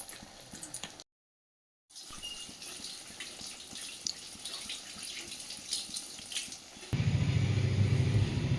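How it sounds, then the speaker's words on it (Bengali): Prawn fritters coated in gram flour batter sizzle in hot oil in a kadai, a steady close crackling hiss with a brief dropout, growing louder and fuller near the end. "এবার বড়াগুলো মা ভেজে নিচ্ছে।"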